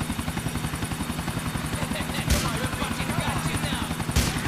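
A helicopter in GTA IV thumps with steady, rapid rotor chops under a constant engine whine, close and continuous, with two sharp bursts cutting through and someone talking over it.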